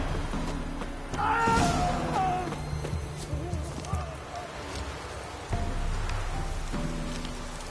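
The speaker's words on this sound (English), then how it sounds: "Looks like rain." Steady rain patters through the ambience of The Witcher 3, with a soft clopping of hooves and occasional voices murmuring beneath the downpour.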